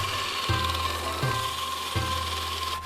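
A belt grinder flat-grinding the tip of a heat-treated Japanese tanto knife blade, a steady whirring hum with three rhythmic passes of the steel pressed against the belt, close and sustained.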